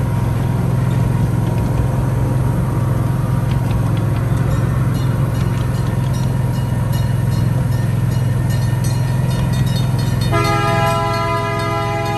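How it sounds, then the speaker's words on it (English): A train rumbles steadily past old activated railroad crossings, and its horn blasts loudly near the end over the rolling noise of the cars. "As we round the corner, the old railroad crossings activate, and the horn sounds."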